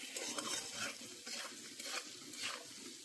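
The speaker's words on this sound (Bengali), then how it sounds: "এবার মিশিয়ে ভেজে নেবো" Close, quiet frying with rhythmic stirring strokes, a spatula scraping through sizzling cauliflower pieces in a pan, no voices.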